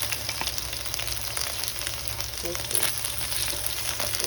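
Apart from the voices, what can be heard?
chicken cooking in a pan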